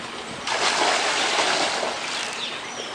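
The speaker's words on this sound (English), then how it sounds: "when you pour the chemicals into your pool" Pool chemical water is poured from a bucket into a swimming pool, making a steady, loud, continuous splashing gush that starts abruptly and runs throughout with no talking.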